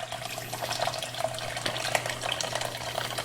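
Fermented Tabasco pepper sauce poured into a cheesecloth-lined strainer over a pot, a steady liquid trickle and splash running continuously and fairly close, with a faint low hum underneath.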